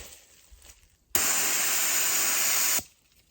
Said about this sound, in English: So if you've never fired bear spray before, this is what it looks like.